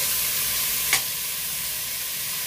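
Tomatoes sauté in a pan for a salmon sinigang sa miso, with an even sizzle throughout and one short utensil scrape or stir near the middle.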